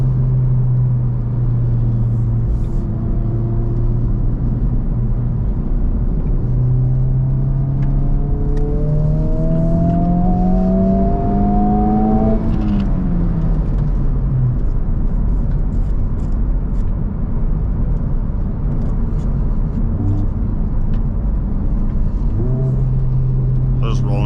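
A 2023 Honda Civic Type R FL5 pulls uphill in third gear, its engine note climbing steadily in pitch toward high revs, then easing off before building again, heard from inside the car with someone speaking.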